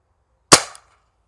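A single sharp pop from a Cobra P-60 semi-automatic air gun during a power test, loud and close, with a quick decaying tail and a faint click just after.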